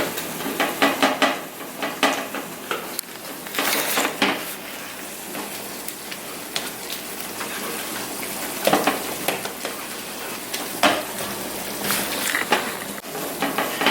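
Tomato sauce simmering in a pan over medium heat, breaking down, with soft bubbling and sizzle, a utensil stirring and scraping now and then, and occasional clinks of cookware, fairly close.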